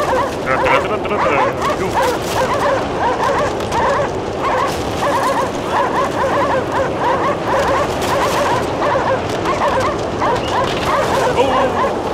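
Sled dogs in the Cryostasis video game bark and yip steadily throughout, a dense, lively chorus over background game sound, with a brief shout from a person.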